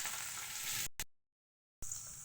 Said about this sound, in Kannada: ಈರುಳ್ಳಿ, ಅದೊಂದು ಸ್ವಲ್ಪ ಬೇಯಿಸ್ಕೊಬೇಕು ಚೆನ್ನಾಗಿ.